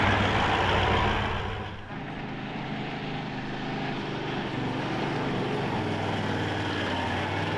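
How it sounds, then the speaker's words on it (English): An Isuzu truck labours up a sand dune on the Canning Stock Route, its engine a loud, close, continuous drone that dips briefly and then settles into a steady grinding roar. "The truck had to have a few more attempts and a bit of track building so it could maintain its momentum and get up and over."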